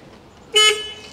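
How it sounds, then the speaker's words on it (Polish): A Fiat 130 car horn gives a single loud, bright toot lasting about a quarter second, close by, then fades into a softer ringing tail over quiet surroundings. "Pokażę wam, jak trąbi."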